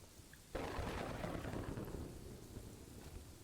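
Thunderstorm with rain in Kingdoms and Castles: a loud thunder crash breaks in and rumbles on under steady heavy rainfall.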